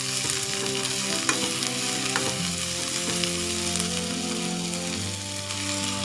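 Tomatoes and onion sautéing in oil in a pan for a Tamil broken-egg curry, a dense, even sizzle with a few soft stirring clicks, close and continuous with no talking.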